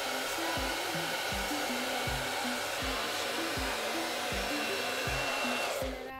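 Hair dryer blowing heat through hair to reactivate styling product, a constant close whoosh with a rhythmic pitch drop roughly every half second as the airflow is moved, shutting off at the very end.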